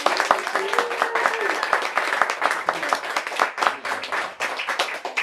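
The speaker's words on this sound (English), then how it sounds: "One more round of applause for our readers." A crowd at a book reading claps steadily and continuously, a dense patter of many hands close by, with a few voices mixed in.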